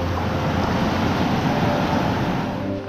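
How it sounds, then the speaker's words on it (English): Creek water rushes steadily at a hiking trail crossing on the way up the nation's tallest peak, a loud continuous wash of flowing water with wind. "All right, 5th creek crossing."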